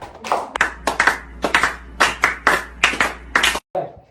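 A classroom of students claps for a classmate named Amara in a patterned rhythm, a quick series of sharp group bursts in close succession, ending after a brief pause.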